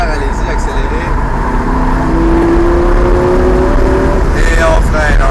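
A Lamborghini Gallardo accelerates on a race circuit, its engine note climbing loudly in a rising whine over a few seconds, heard close from inside the car with a voice talking over it.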